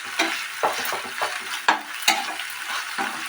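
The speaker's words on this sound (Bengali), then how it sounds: "এবার আমি এটা কিছুক্ষণ কষাতে থাকবো।" Green jackfruit and prawn curry sizzles in a pan while a spatula scrapes and stirs it in regular strokes, giving close, sharp scrapes over a steady frying hiss. No one speaks.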